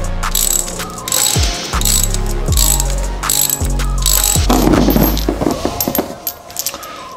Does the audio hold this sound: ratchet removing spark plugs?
yes